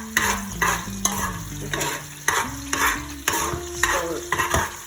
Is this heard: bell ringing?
no